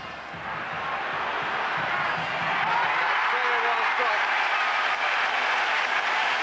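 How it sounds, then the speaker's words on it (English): Applause from the Danish bench and the football crowd at Idrætsparken during the 1989 Denmark v England match swells into a broad, sustained roar of clapping and crowd noise, with a commentator's voice running over it. "it brings applause from the Danish bench, and not surprisingly from all the crowd here in the Idrætsparken"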